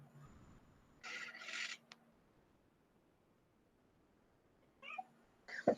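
A cat meows indoors during an online class, with one clear drawn-out meow early on followed by two shorter, quieter meows near the end, separated by near silence.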